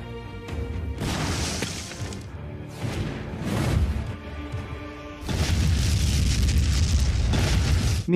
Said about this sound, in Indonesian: Tanpa berlama-lama, Sersan Gregg langsung melemparkan granatnya.